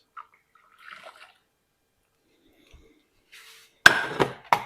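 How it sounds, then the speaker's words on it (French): Boiling water poured into a hollowed pumpkin while making pumpkin cream soup: mostly near-silence, then a sudden close clink followed by a short burst of splashing, trickling liquid near the end. "on met 375 ml d'eau bouillante"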